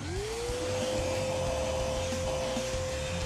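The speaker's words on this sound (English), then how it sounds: "the biggest blower that I've got is a shop vacuum" A shop vacuum runs as a makeshift forge blower, spinning up with a rising whine that settles into a steady, loud drone over rough airflow noise.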